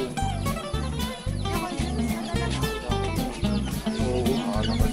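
Chinese chickens clucking and squawking inside a pen in a rural province setting, a busy continuous chorus of overlapping calls, close and fairly loud throughout.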